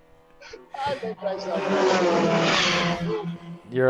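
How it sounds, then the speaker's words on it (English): A race car's engine roars past during an endurance race on the salt flats, a loud rising and sustained snarl that swells and fades, with commentators' voices briefly at the start. "I like good car sounds"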